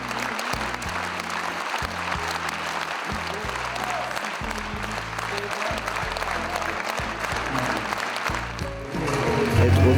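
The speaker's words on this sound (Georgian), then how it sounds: "მაყურებლის ასეთი რეაქცია და უწყვეტი აპლოდისმენტები მისთვის ყველაზე დიდი ბედნიერება" Sustained applause from a concert audience fills the hall, dense and continuous, swelling slightly louder toward the end with no voices over it.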